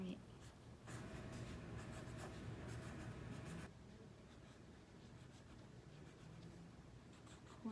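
A black marker writes on a greeting card, its tip scratching and rubbing in steady strokes close up, with short pauses between the bursts of writing.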